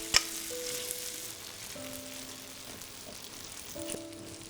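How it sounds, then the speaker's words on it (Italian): Pasta fries in hot oil in a pan, giving a soft, steady crackling sizzle under faint kitchen tones, with a few small clicks and taps. "Importante è il rumore. Come sentite deve sfrigolare."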